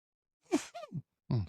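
A single sharp sneeze with a quick intake before it, followed by a short pause and a brief voiced sound, fairly close and otherwise quiet.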